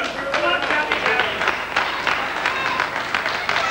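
Crowd at a professional wrestling bout between Danny Collins and Steve Grey applauds with steady rhythmic clapping, fairly loud and sustained, while a commentator's voice runs over it.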